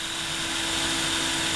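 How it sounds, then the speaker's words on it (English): A drill boring through the metal frame of a solar panel, a steady high whine with a sustained tonal hum, loud and close, continuous for the whole moment, without speech. "We basically had to drill through the metal frame on the solar panel so we could fit more brackets on."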